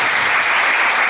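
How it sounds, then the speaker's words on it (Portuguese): A church congregation claps together in a brief, dense burst of applause, even and sustained with no voices standing out. "Palmas para Jesus."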